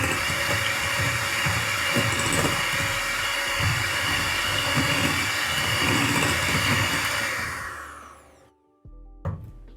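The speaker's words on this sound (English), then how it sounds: "And whisk again." An electric mixer whisks sugar, margarine and egg for cookie dough with a steady loud whirring drone for about eight seconds, then winds down and stops, followed by a brief clunk.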